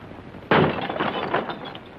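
A hammer smashes a window pane, one sharp loud crack at the start, followed by scattered shards of glass tinkling and falling for over a second.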